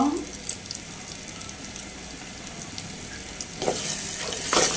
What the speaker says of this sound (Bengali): এগুলো দিয়ে হচ্ছে আমি এখন আরেকটু নাড়াচাড়া করে দিব।